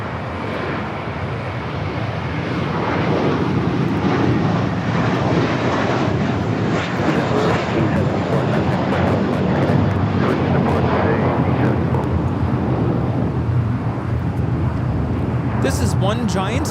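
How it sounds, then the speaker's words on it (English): A JetBlue Airbus A321 takes off from Los Angeles airport toward Newark. Its engines build into a sustained, loud rushing roar that holds steady, with some wind buffeting and talk underneath. "This is one giant leap for Mint Kind taking off to Newark, JetBlue 1874. It's an A321."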